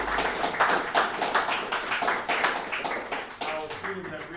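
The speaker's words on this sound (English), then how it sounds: "Let's give him another round of applause." Audience applause for a lecturer at an academic talk: brisk, fairly loud clapping from a room of people, steady throughout with a voice briefly audible near the end.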